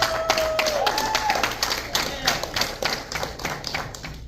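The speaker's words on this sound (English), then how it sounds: "Y'all give that brother a nice round of applause" A small audience at a spoken word awards show claps for a poet, loose scattered hand claps and taps with a voice speaking over them.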